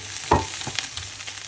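Cabbage fries in a pan with cooked chicken, a short burst of close sizzling with a brief stirring clatter.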